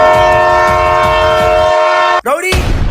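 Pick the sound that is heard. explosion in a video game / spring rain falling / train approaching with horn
train approaching with horn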